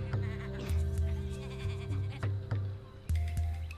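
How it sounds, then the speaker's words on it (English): Sheep in the video game Tak and the Power of Juju bleat loudly and repeatedly, several calls in a row over a steady game background hum, with no talk. "we just need to bring a sheep over here and hit it"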